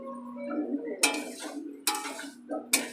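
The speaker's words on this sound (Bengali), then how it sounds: "ভালো করে খুন্তি দিয়ে মিশিয়ে নেব।" A metal spatula scraping and clanking against a cooking pan as spinach and prawn curry with green chillies is stirred, three sharp metallic strikes over a low steady hum.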